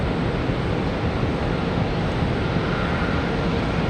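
A Frontier airliner departs Charlotte airport, heard as a steady, even wash of distant jet rumble with no other sounds standing out.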